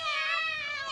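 Cartoon cats in an animated comedy cry and meow in a sustained, wavering, high-pitched wail, close and loud with no pauses.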